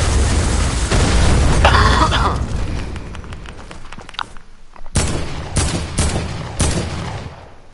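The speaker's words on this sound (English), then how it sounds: "This guy's wasting all this dynamite on me." Dynamite blasts in a video game: a dense, rumbling barrage of booms and bursts up front, then a quieter stretch, followed by four sharp, separate explosions near the end.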